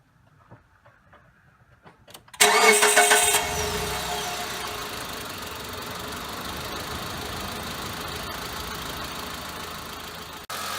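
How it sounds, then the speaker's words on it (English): A car engine cranks and catches after a quiet stretch of small handling noises, surges loudly for about a second, then settles into a steady fast idle that runs evenly to the end. "And now I'll start this engine up and set up at fast idle."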